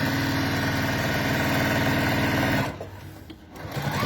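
A domestic sewing machine stitching a bag strap runs with a fast, even mechanical whir, close and loud, then stops abruptly and leaves faint handling noises.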